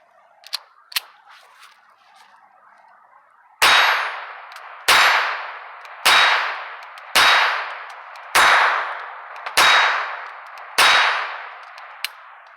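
A FIE Titan .25 ACP pistol fires seven sharp, loud shots at an even, steady pace, each crack ringing out and decaying quickly. Faint clicks and handling noises come before the first shot.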